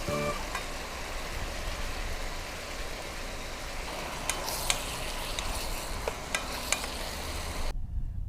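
Freshwater shrimp hit a pan with thickly sliced onion and sizzle in a steady, close hiss, broken by a few sharp crackles and pops.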